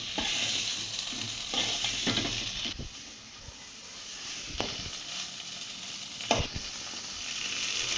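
Fish frying in a pan with ground chilli, onion and cumin paste and chopped onion, a loud continuous sizzle broken by several sharp stirring scrapes.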